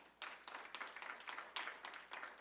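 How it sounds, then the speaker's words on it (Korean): Congregation clapping in rhythm at a Wednesday noon church prayer meeting, regular bursts of claps fairly quiet and without speech. "우리 하나님 앞에 영광의 박수 올려드리십시다"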